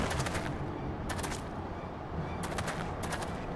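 Bursts of gunfire in Final Fantasy XIV Dawntrail: several quick volleys of sharp shots ring out over steady ambient game noise.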